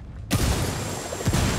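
A grenade blast in the Ghost Recon Wildlands video game booms out abruptly, loud and broadband, followed by a second thudding hit moments later.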